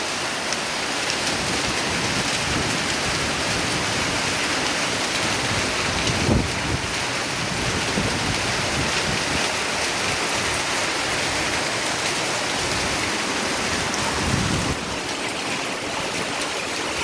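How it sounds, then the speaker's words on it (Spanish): Heavy rain pours continuously during a storm in San José de Cureñas, a dense, loud roar of water with gusty surges and no speech. "Ya tengo una hora, está lloviendo."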